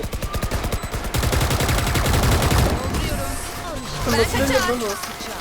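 Rapid automatic rifle fire in Valorant rattles in dense bursts, followed by scattered shots and game effects, with players talking over the action.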